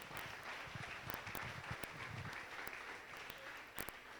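A church congregation applauds during a French-language sermon: a faint, distant wash of clapping holds steady for about four seconds, with a few sharper claps standing out near the end.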